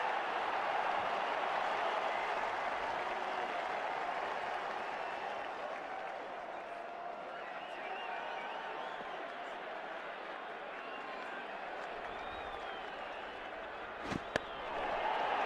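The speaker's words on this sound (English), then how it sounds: "Well, he deserves the applause." Steady applause from a large cricket Test match crowd for a batsman's half-century, a continuous wash of clapping at moderate distance with faint voices mixed in, ending with a sharp knock.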